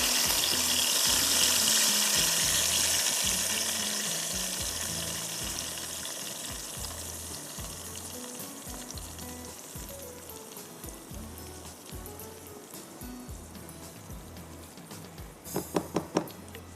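Masala roasting in a pan for chicken roast masala, a loud steady sizzle that slowly fades over time, with repeated soft stirring scrapes and a few sharp clinks near the end.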